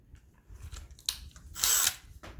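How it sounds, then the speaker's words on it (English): A power drill bores a hole through plastic trim inside a 2019 Ford Flex SEL, with short quiet whirring bursts, then one louder high-pitched grinding burst lasting about a quarter second, all close to the microphone. "So I'm gonna go ahead and drill the hole through"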